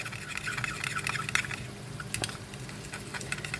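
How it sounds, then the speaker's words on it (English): Soy sauce being mixed into corn flour in a small bowl: soft, irregular wet clicks and scrapes of stirring over a faint background hum, no talk. "I'm adding a little bit of soy to our corn flour. I'm going to give that a little mix"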